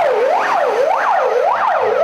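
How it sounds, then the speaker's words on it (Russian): A fire engine's wailing siren, rising and falling in repeated swoops about every 0.6 seconds, loud and close and continuous, on a fire truck hurrying to another incident during a city emergency-services drill in Sochi. "А эта пожарная машина спешит уже на другой объект."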